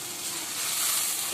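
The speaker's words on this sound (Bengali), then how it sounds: "এই মশলাটাই অনেক বেশি ভালো করে কষাই নেব।" Spice paste of turmeric, chili, salt and coriander frying with onions, a steady hissing sizzle that swells slightly over a brief moment, close and continuous, no voices.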